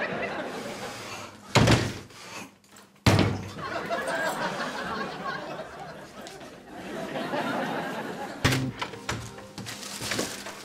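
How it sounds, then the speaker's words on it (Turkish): A door thumps and swings open in a Turkish apartment sitcom scene, with a sharp bang near the start and another thud midway, while people chatter and laugh close by. "Tam kapıyı çalıyordum, açtınız."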